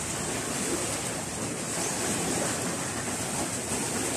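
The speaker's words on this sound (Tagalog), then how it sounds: "Lakas pa ng alon" Strong ocean waves pound the shore in a dense, continuous roar of surf, loud and unbroken throughout, with no one speaking.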